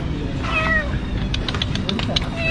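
A trapped cat meows several times in short cries over steady background noise during a fire and rescue callout.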